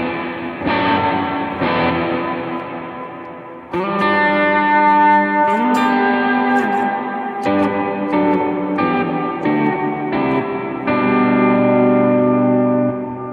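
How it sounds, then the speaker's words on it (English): Electric guitar run through a plate reverb, playing sustained chords and notes with a smooth, warm wash of reverb tails, loud and continuous with no talking. "You can hear it adds like a smooth and a warm reverb sound."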